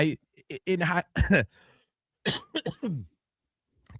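Several sharp coughs and throat-clearing bursts in quick clusters, close and loud, with pauses between them and a faint final cough near the end.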